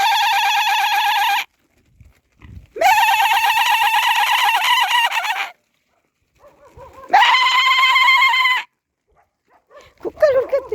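Goats on a farm bleat loudly and close by, in three long wavering calls separated by short pauses, with a fainter bleat starting at the end.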